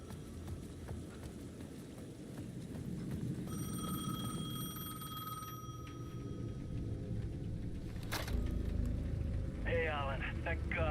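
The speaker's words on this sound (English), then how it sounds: "The payphone at the edge of the plaza was ringing again." A payphone at the edge of a plaza rings in the video game Alan Wake 2. The ring is a clear electronic tone heard twice, sitting over a low ambient rumble, with a voice speaking briefly near the end.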